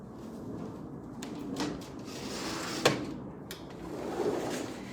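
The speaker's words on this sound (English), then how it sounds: "let me shut this door" An indoor door is pushed closed with a soft rubbing slide and a single clear knock as it shuts midway, followed by low room noise.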